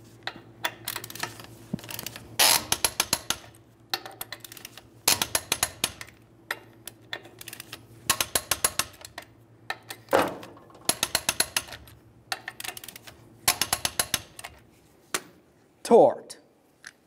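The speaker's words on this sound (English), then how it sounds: "we'll torque these in a crisscross manner." A click-type torque wrench ratchets on the wheel lug nuts of a 1998-2011 Ford Ranger, working them in a crisscross pattern to 100 foot-pounds. Close, repeated bursts of rapid clicks are separated by short pauses and a few louder clunks.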